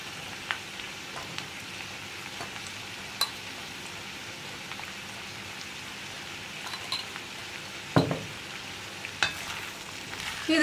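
Aloo gobi, a potato and cauliflower curry, cooks in a pan with a low, steady frying sizzle, broken by a few clinks and stirring scrapes. A louder scrape or clatter comes near the end.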